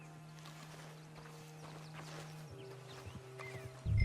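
Horse hooves in Red Dead Redemption 2 clop in a quick uneven rhythm at a moderate distance over a low steady hum, ending with a louder thump.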